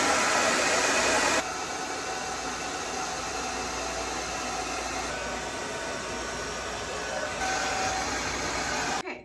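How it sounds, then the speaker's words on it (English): A blow dryer fitted with a comb attachment drying hair gives a steady, close airy whoosh that drops slightly in intensity after the first moment, then holds continuously before easing off at the end. "now I have this comb attachment that I use on the blow dryer"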